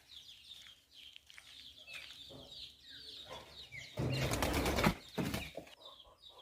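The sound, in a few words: rooster on a farm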